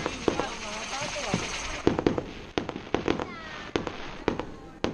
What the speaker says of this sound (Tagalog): Isang oras yata yung fireworks nila eh.